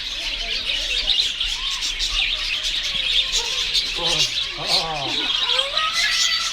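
Birds at a bird park chirp and squawk in quick, overlapping calls close by, with a steady high chorus behind them and a voice talking softly over parts of it.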